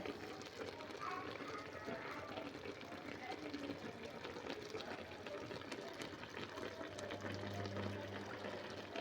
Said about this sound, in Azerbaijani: hardasa bir 10 dəqiqədir qaynayır